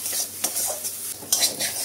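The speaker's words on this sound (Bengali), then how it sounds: "নেড়ে একদম শুকনো করতে হবে, নেড়ে যেতে হবে।" Pointed gourd peels fry in a pan while being stirred, with a few sharp scraping strokes of the utensil against the pan over a soft, continuous sizzle.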